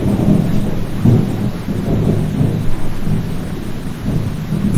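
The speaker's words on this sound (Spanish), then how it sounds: "no sé si ustedes alcanzan a oír los truenos, pero aquí en mi casa ya empezó a llover muy fuerte y con tempestad" A thunderstorm with heavy rain heard from inside a house: a steady, loud wash of rain with low, rolling rumbles of thunder that swell and fade, and no voices.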